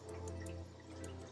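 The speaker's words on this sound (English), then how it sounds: "So you can see the water comes through here." Water drips and trickles through an aquarium sump in quiet, irregular splashes over a steady low equipment hum, with no talking.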